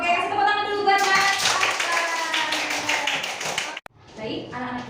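A group of children in a classroom clap together in a lively burst of rapid claps, with voices talking before and after.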